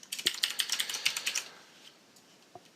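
Fast bursts of clicking keys on a computer keyboard, close and crisp for over a second before trailing off into quiet with one last isolated tap.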